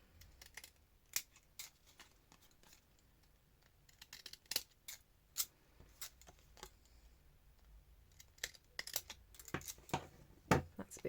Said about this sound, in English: I'm just going to get my decal edge scissors just to kind of trim that top a little bit